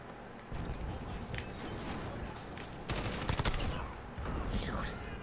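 Rapid bursts of gunfire in the video game Call of Duty: Modern Warfare, loud and rattling, with a voice talking over parts of it.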